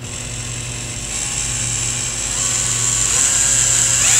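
A power drill with a 1.5 bit bores into a piece of walnut wood, a steady high whine with a low motor hum that grows slightly louder as the bit works in, with no talking.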